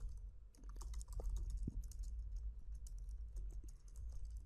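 Typing on a computer keyboard while an HTML input field and a check button are coded, with steady clustered key clicks running throughout at close range and no speech.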